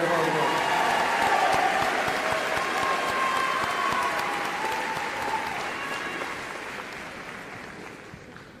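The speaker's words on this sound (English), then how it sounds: "And one more round of applause." A large graduation audience at Central Catholic High School's 2023 ceremony breaks into loud, dense applause filling a hall, sustained and gradually thinning out toward the end.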